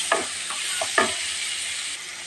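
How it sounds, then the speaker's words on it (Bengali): Dried fish sizzling steadily in a pan of spices, with a few stirring scrapes near the start and again about a second in, close and continuous with no talking. "এখন আমি সুটকিটা ঢেলে দিলাম সুটকিটা কিছুক্ষণ কষিয়ে তারপর আমি বেগুনটা দিয়ে দেবো"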